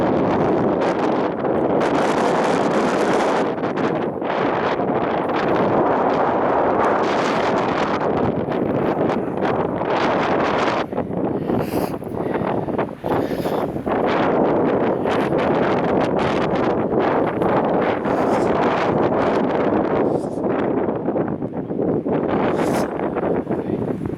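Strong wind on Brailes Castle hilltop buffets the microphone steadily for the whole stretch, a loud roaring rush with gusty surges and no other sounds.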